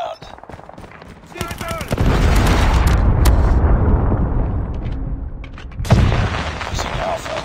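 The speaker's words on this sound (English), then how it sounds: "Predator missile inbound." A Predator missile strike in Call of Duty Mobile lands as a loud, roaring explosion that swells and rumbles for several seconds, with a second blast near the end and game gunfire around it.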